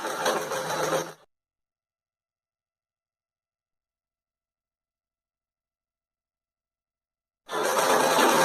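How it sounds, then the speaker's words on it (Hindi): A sewing machine runs along the single-folded hem of cotton palazzo pants in two short bursts of rapid mechanical whirring, one at the start and one at the end, with dead silence between them. "पहले तो इस प्रकार हमने सिंगल फोल्ड किया और उसमें सिलाई लगाना शुरू करते हैं, शुरू से लेकर आखिर तक पूरे घेर में।"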